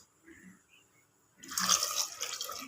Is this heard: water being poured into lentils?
yes